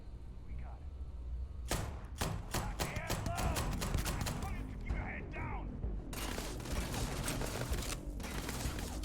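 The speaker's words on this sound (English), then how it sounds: "I gotta shoot you, pal." Rapid bursts of gunfire from the video game Starfield ring out in a dense, sustained stretch, with loud shots packed closely together and a voice talking underneath.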